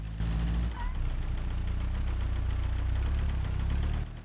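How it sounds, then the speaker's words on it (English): The 2.0L engine of a Pessima LX in BeamNG.drive knocks steadily, its rapid metallic tapping riding over a loud, rough idle drone throughout. "the engine is knocking pretty bad"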